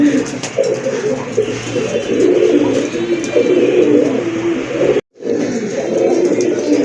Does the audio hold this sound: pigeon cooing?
yes